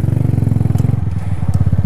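A motorcycle ridden close by on a short spin, its engine giving a rapid, even pulsing throb with a loud, steady low rumble and no talk over it.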